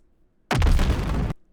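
A single explosion built from layered swoosh sounds: a sharp whooshing attack swelling into a loud, broad rumbling burst that holds for nearly a second, then cuts off abruptly.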